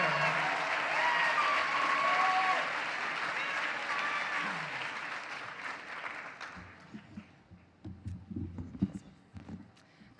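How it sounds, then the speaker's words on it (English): An audience at a women's foundation breakfast applauds loudly, dense clapping that fades and thins to a few scattered claps, with a brief voice and tones early on. "Put your hands together for Imara Jones, board member of the New York Women's Foundation, and Abigail Pettit"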